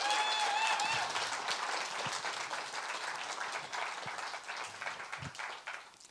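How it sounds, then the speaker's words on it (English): A comedy club crowd at The Den Theater in Chicago breaks into sustained, dense applause that holds steady for several seconds and then tapers off slightly. "Give yourself a round of applause."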